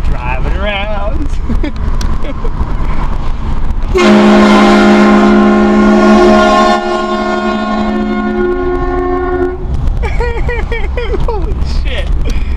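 A HornBlaster 228VX train horn fitted to a 2001 Honda Civic Coupe blasts one long, very loud, chord-like note for several seconds, with excited voices talking before and after it.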